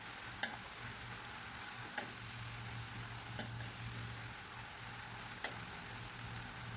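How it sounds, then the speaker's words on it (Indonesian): A spoon stirs cooked papaya leaves with anchovies in a pan, giving faint scrapes and a few sharp clicks against the metal over a low, steady background hum. "Tinggal kita aduk merata"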